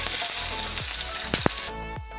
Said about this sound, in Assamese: তেল গৰম হৈ গ'ল, এতিয়া মই ইয়াতে পিঁয়াজখিনি দি ল'ম।